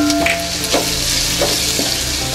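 Slit green chillies sizzle steadily in hot oil in a pan for rava kichadi, with a few soft scraping stirs and a continuous close, loud frying hiss.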